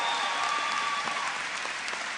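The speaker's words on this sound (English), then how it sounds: "Please give them a round of applause." Graduation-ceremony audience at John Jay College applauds faculty and administrators, a dense, steady wash of clapping from a large crowd filling the whole short stretch at moderate level.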